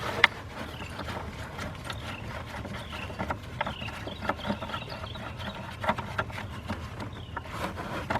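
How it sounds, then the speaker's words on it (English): A ratchet wrench removes 8mm bolts on a 2003 Mazda Tribute with a cylinder 4 and 5 misfire, giving a steady run of close, light metallic clicks and ticks over low workshop rumble. "Take off the 8mm bolts next."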